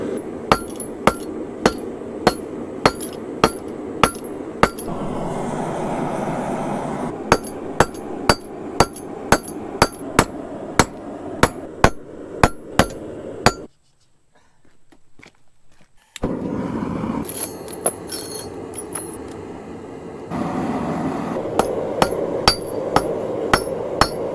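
A hammer rings on an anvil while forging a steel spring to a point, sharp metallic blows falling in a steady rhythm, stopping for a few seconds of near silence, then resuming with scattered strikes.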